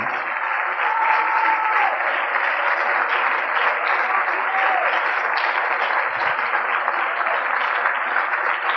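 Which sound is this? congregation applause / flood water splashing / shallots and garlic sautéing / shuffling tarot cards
congregation applause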